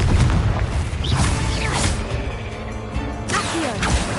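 A Confringo blasting spell is cast in Hogwarts Legacy, giving loud booming blasts with whooshing sweeps and crashing impacts that stay dense and close throughout.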